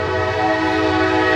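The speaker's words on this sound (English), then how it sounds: "You can hear the train in the background as I was just talking about the railroad" A passing train sounds its horn in a long, loud, sustained blast.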